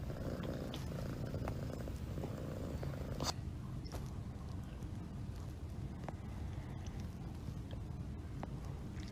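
A cat purrs close to the microphone in a steady low rumble that runs throughout, with a few faint clicks and handling noises.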